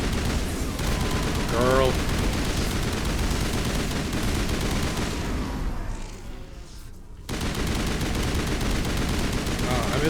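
Heavy gunfire from a Mass Effect: Legendary Edition battle chatters continuously and close, full of dense automatic bursts, with a brief lull near the end before it picks up again; a short spoken word slips in early.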